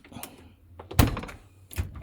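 Hotel room drawers are pulled open in a Radisson Blu room in Lisbon, giving a few close wooden thunks and slides spaced out over a couple of seconds, with no talking.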